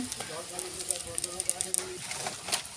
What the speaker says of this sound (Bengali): পেঁয়াজগুলো খুব ভালো করে আমি নাড়াচাড়া করে নেব